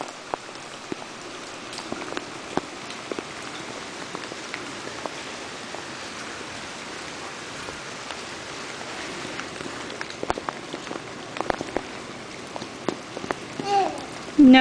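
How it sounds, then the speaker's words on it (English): May rain falling steadily, a soft continuous patter with scattered sharper drops striking nearby surfaces, plus a few faint knocks near the end. "As you can see, Matthew hates the rain."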